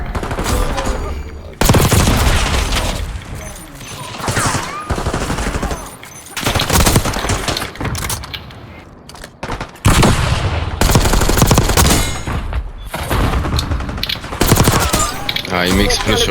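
Rapid automatic gunfire and explosions in a video game firefight, loud and continuous in dense bursts with brief lulls, with battle effects throughout.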